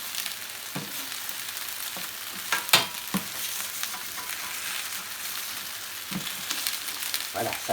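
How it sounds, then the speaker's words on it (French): A metal scraper works across a fouled, sizzling plancha griddle during cooking of sautéed potatoes, gizzards and ceps: a steady frying hiss with several sharp scraping strokes, one louder rasp standing out near the middle. "si vous voyez que votre plancha s'encrasse, il ne faut pas hésiter de passer un petit coup de scraper"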